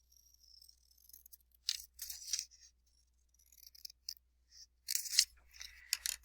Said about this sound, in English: We're going to cut it in half.